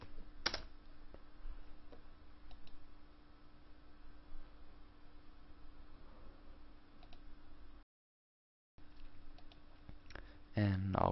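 Computer keyboard typing on a PC, a movie title punched into a search box, giving a steady run of light key clicks near the mic, with a brief dropout and a louder burst of noise at the end.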